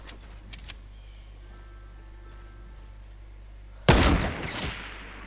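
Gunfire in Fortnite Battle Royale: a few sharp shots early on, a quiet stretch, then a loud, close burst of rapid fire that fades out.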